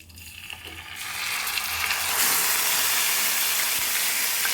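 Coarsely ground onion hits hot oil with cumin, setting off a loud, close sizzle that swells within the first couple of seconds into a steady, hissing fry.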